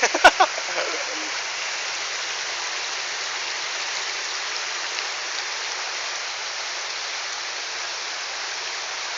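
Fast-flowing water rushes in a steady, dense hiss that runs throughout, preceded by a few short knocks at the start, with no voices.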